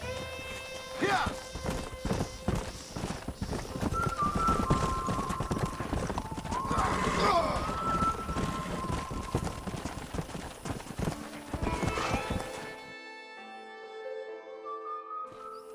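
Horses clip-clop steadily in Red Dead Redemption on PS3, a continuous run of hoofbeats with a faint whinny, while characters talk over them, then the hooves drop away into a quieter stretch near the end.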